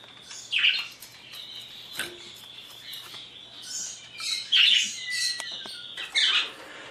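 An Indian ringneck parakeet makes bright, close chirps and sharp squawks in uneven bursts, with quieter moments between the louder calls.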